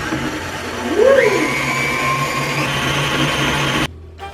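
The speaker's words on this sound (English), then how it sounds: "I'm gonna blend the sugar and the oil." Countertop blender whirring as it blends sugar and oil for pumpkin bread, a steady close motor drone with a brief rising pitch sweep early on, cutting off abruptly near the end.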